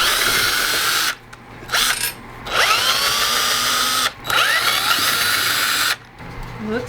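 A power drill backs screws out of a mid-century modern cane dining chair, whirring loudly and close in several bursts of one to two seconds, with short pauses between them.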